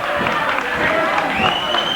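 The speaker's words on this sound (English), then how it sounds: "The crowd comes to its feet yelling." A professional wrestling arena crowd during a Kerry Von Erich match rises to its feet, a steady roar of yelling and cheering filling the hall, with shrill voices standing out above the din.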